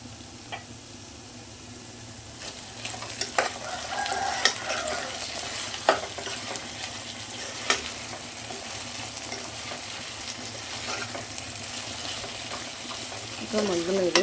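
An onion and potato curry gets stirred in a pan, a spoon scraping and knocking against the metal in irregular strokes over a constant low sizzle, close and moderately loud, with occasional faint voices.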